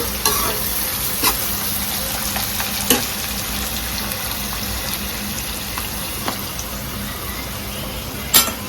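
Chicken and cucumber fry in a pan with tomato, giving a continuous hissing sizzle and a few sharp clicks of stirring.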